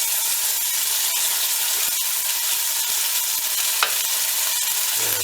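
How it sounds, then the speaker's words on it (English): Garlic, ginger and chilli fry with caramelised onions in a pan for dal banjara, giving an even sizzling hiss broken by scattered pops and the scrape of stirring, with no talking. "add our garlic, ginger and chilli. Now I'm going to turn the heat down as we add that, just to stop it spitting"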